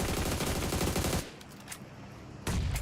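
Rapid automatic gunfire in PUBG Mobile at an esports championship match, a loud sustained burst that cuts off abruptly, then a few isolated distant shots before another burst starts.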